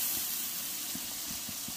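Masala spices fry in oil in a pan for a matar ka nimona recipe, a steady close sizzle and hiss with soft stirring taps.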